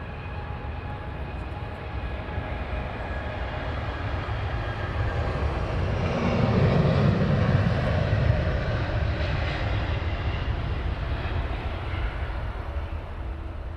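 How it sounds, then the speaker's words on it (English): A Virgin Dreamliner airliner rolling for takeoff at London Heathrow, a steady loud roar of jet engines that swells in the middle and then holds, no voices. "Rolling as we have Virgin Dreamliner."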